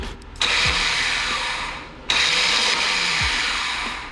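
A chopper motorcycle engine is cranked and fires twice, each attempt a loud, close whirring roar that surges and fades, with a short gap between the two starts.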